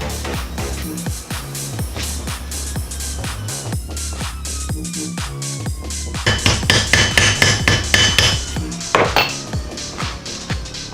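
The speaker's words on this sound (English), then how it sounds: "Now you're going to want to peen the nails" Rapid hammer strikes peen nails over on a wooden dowel for a homemade chain flail, dozens of sharp metallic blows in a steady rhythm that grow louder and ringing toward the end, with no talking.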